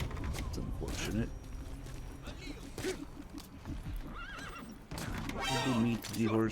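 Horse neighing in a video game, several whinnies scattered across the clip amid clip-clop hoofbeats and game noise, with the loudest burst of neighs near the end.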